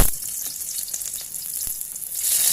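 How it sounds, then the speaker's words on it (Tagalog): Garlic sautéing in hot cooking oil, a steady bright sizzle with crackles and pops, close and fairly loud with no talking. "Lagyan uli ng mantika. Yan. Lagay na ang bawang."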